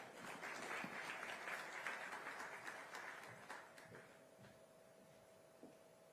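Applause from an audience at a corporate event hosted by CNBC TV 18 and Schneider Electric, dense and steady for about four seconds before thinning into scattered claps and a faint tone.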